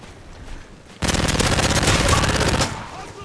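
Rapid-fire PP submachine gun in MW3, a loud unbroken burst of fast even shots lasting about a second and a half after a quiet lead-in, then stopping abruptly.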